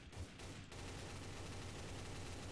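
Rapid gunfire in Garry's Mod Trouble in Terrorist Town, a dense continuous burst of game shots lasting throughout, loud and close with no voices over it.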